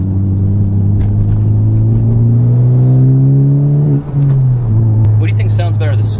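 A Honda Civic Type R in R mode accelerates with a loud, rising engine drone close up, eases off briefly mid-pull and then carries on, with people talking over it inside the car.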